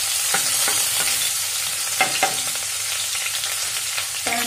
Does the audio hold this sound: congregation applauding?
no